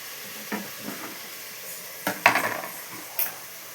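Onions fry in a pan, a low, quiet sizzle beneath several sharp metallic scrapes and clinks of a spoon against the pan, heard close with no talking.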